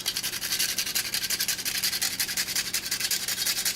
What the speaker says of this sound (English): We're going to add a little bit of fresh cinnamon stick using a grater.